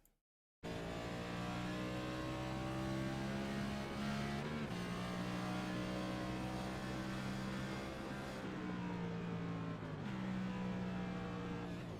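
A stock car engine in a racing game roars continuously after a brief silence, shifting pitch with short drops between sustained full-throttle stretches at Gateway.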